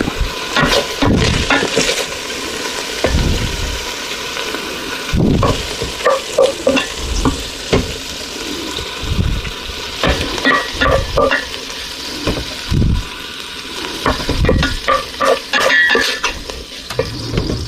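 Ground beef sizzles and fries steadily in a pan for soup, with repeated scraping strokes of a slotted spoon stirring it and occasional clinks of the utensil against the pan, close and fairly loud with no talking.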